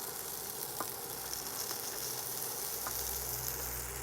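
Tomatoes char-grilling on a griddle pan over an induction hob give a steady, close, broadband sizzle with a faint hum low underneath.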